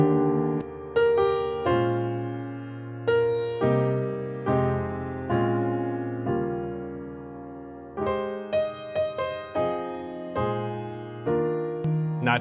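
Piano chords play a reharmonized progression, each struck chord ringing and decaying in a steady rhythm, clear and solo with no talking.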